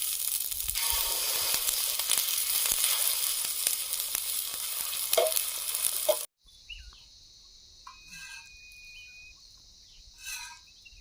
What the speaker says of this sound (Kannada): ಮೊಟ್ಟೆ ಕಲ್ಸ್ಕೊಂಡಿದ್ವಲ್ಲ ಅದನ್ನ ಹಾಕ್ತಾ ಇದ್ದೀನಿ